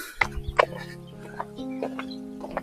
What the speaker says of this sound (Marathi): पक्ष्यांचा आवाज येतोय फक्त